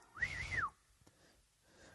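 A man imitates whistling at pet birds, giving one rising-and-falling whistle lasting about half a second, close and fairly loud, followed by quiet breaths.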